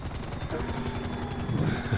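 A helicopter's steady rotor chop pulses under rattling automatic gunfire aimed at it in GTA 5, with a heavier burst swelling near the end.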